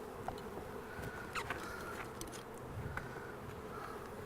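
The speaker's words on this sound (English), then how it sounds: "And you can see the nurse bees." Honey bees drone in a constant, close buzz, with individual insects whining past now and then.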